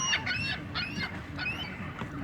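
Geese or similar fowl honk repeatedly in a loose, overlapping chorus after being fed bread, close by and fairly loud, with no talk over the calls.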